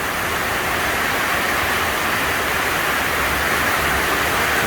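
Heavy rainwater pouring off a neighbour's roof in Angeles City, Philippines, a dense, steady rushing hiss filling the whole stretch without break.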